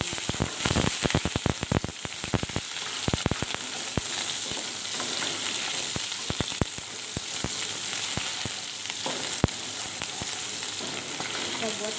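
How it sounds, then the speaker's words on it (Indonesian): Sambal spice paste sizzles and spatters in a hot pan of oil, with a steady dense frying hiss and scattered sharp crackles and stirring scrapes throughout. "Oke, sekarang kita goreng bumbu."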